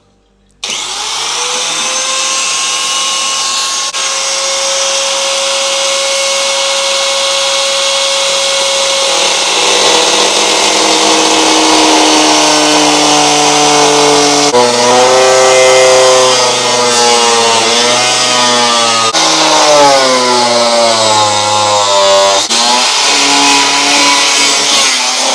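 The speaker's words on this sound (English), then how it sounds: "They're much thinner, the disc, than your normal angle grinders, and this should actually just sort of melt through the product rather than slicing through it." A thin-disc angle grinder cuts through a car's metal oil sump, its high whine steady at first and then shifting in pitch as the disc bites through, loud and close with no talk.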